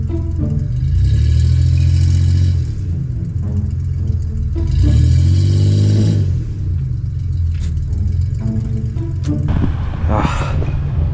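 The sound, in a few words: car engine revving, stuck reversing in thick snow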